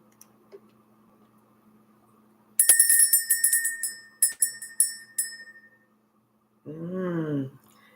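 A small bell rung to clear energy during a spiritual reading: a quick flurry of bright, ringing strikes, then a few separate dings that fade out, followed by a short voice-like tone.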